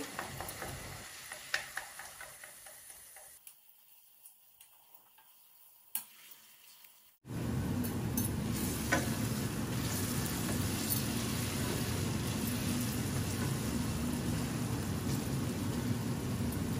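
Onions fry in a pan for a jackfruit dish: a soft sizzle with scraping stirs, then a loud, steady close sizzle that jumps in about halfway and continues to the end.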